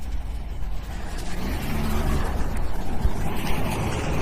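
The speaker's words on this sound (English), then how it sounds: "I'm going to back my car up a little bit so we're in a safe spot here" A police car backs up slowly at a roadside traffic stop, its engine a steady low rumble with road and wind noise that swells slightly as the car moves, no talk over it.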